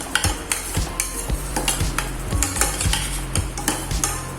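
Tomato kuruma paste sautéing over a medium flame, with steady close sizzling and repeated rhythmic scrapes and clinks of a spoon stirring against the pan, no talking.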